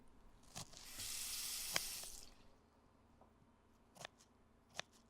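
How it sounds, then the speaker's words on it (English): Water runs from a kitchen tap into a small bowl in one steady, close stream lasting about a second, followed by a few light clinks and taps. "I'm gonna get a little bowl of water for later for when we wrap them."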